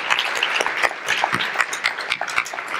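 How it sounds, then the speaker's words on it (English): Round of applause from an audience welcoming a guest onstage, steady moderate clapping with scattered sharper claps, no talking over it. "Even bigger round of applause."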